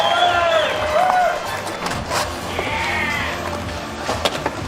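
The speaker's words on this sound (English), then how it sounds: "One more for the crowd. Let's get it, Joey. Let's hear it for Joey." Crowd at a Dew Tour skate event in Des Moines cheers and whistles for a local skater during an adaptive park run, steady broad roar with scattered shouts and whistles, voices calling out over it.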